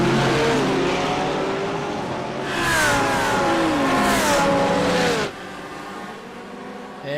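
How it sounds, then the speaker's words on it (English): LMP2 race cars in a sports car racing video game at Long Beach accelerate hard off the start, engines screaming and climbing through gears as several cars roar past close by, then fading to a lower drone. "Let's watch the run into turn number 1 here for the LMP2 machines."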